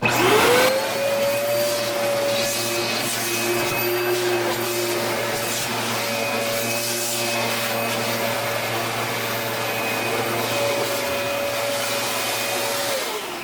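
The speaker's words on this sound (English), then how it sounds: "attach the crevice tool, turn the vacuum on." A Prolux Phantom upright vacuum cleaner, crevice tool attached, whirs loudly and steadily up close, its motor pitch rising as it starts and holding for the whole stretch.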